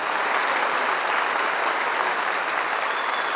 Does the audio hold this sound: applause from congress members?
yes